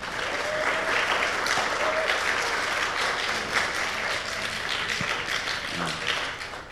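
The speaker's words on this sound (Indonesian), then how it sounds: "Beri tepuk tangan." An audience at an indoor workshop applauds steadily, with dense clapping that carries on for several seconds at moderate volume and fades slightly toward the end.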